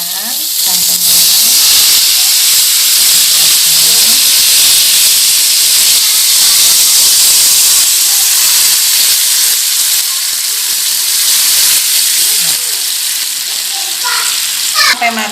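Coconut milk poured into a hot pan with lemongrass and salam leaves for yellow rice, giving a loud, steady sizzle and steamy hiss that holds up close for the whole stretch.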